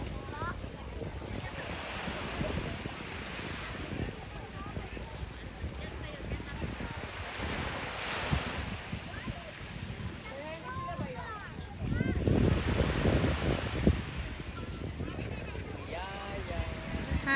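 Surf rolls and breaks on a beach while gusty wind buffets the microphone, a steady roar that swells louder near the end, with people talking over it.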